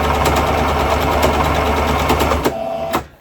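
A sewing machine runs steadily while stitching gathers in fabric, a close, loud, even mechanical whir with a rapid rhythmic chatter that slows and stops near the end.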